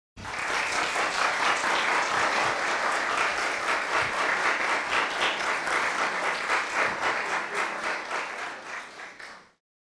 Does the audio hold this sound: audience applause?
yes